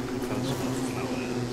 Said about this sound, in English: There's lots of bees here.